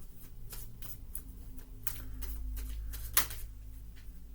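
Tarot cards being shuffled by hand, a quiet run of soft riffling flicks and taps at close range, with no one speaking.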